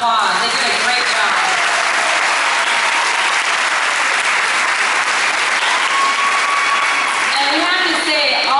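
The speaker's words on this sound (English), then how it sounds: "Let's give them a big round of applause." Pageant audience giving a loud, sustained round of applause after a stage of contestants, dense clapping close and continuous, with some cheering voices mixed in.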